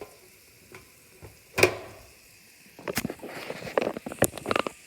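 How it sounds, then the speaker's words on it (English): Smash burgers sizzle inside an air fryer, a faint hiss broken by sharp crackles and pops that grow busier and more frequent toward the end. "You can hear it sizzling."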